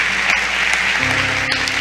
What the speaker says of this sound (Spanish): ¿Cuánto le dan un aplauso a Dios por la palabra del Señor?